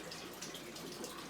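Water runs steadily during an aquarium water change, a faint, even splashing hiss with no pauses and no voices.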